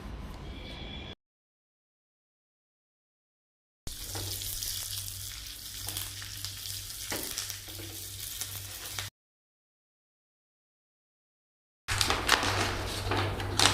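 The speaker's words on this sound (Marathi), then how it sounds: "एका पॅनमध्ये बडीशेप, जिरे, मोहरी, कढीपत्ते, थोडी कापलेली हिरवी मिरचीची फोडणी तयार करायची." Fennel, cumin, mustard seeds, curry leaves and chopped green chili sizzle in hot oil in a pan, a steady loud frying hiss in two long stretches broken by silent gaps, with some stirring; no talk.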